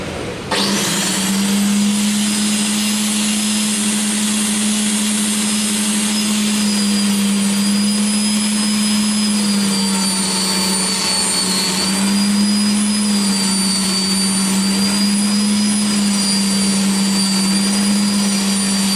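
A homemade table saw motor spins up at once and holds a loud, steady whine with a strong hum beneath, running unloaded and close by for the whole stretch.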